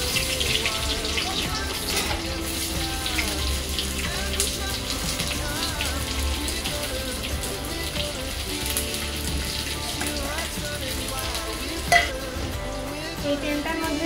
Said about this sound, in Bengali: তেল তো গরম হয়ে গেছে, এবার একটু একটু করে পেঁয়াজগুলো দিয়ে দেবো।